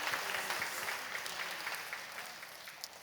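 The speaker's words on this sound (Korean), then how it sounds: "여러분 크게 박수로 환영하시지요." A Korean church congregation gives a welcoming round of applause during worship, loud and dense at first and then gradually tapering, with no speech over it.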